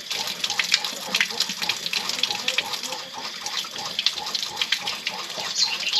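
A water pressure pump runs steadily in the background, a continuous watery hiss and rush with no clear breaks.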